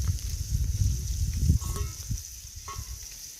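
Fish masala with onion masala, turmeric and chilli powder frying in a pan, a low crackling sizzle with some stirring scrapes, fairly close and moderately loud, no talk.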